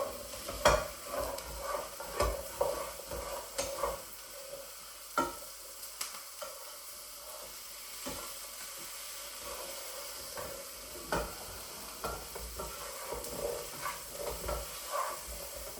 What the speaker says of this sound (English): again whilst I kind of stir it gently